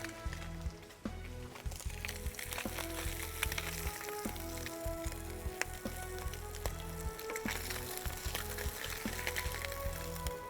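Fish fry in a pan with a loud, continuous close-up sizzle and a fine crackle of spattering oil, steady from start to finish with no voices.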